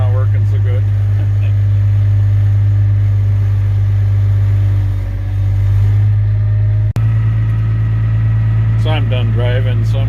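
A log loader's diesel engine idles with a loud, steady, deep drone that dips briefly and then resumes, with a voice heard near the end.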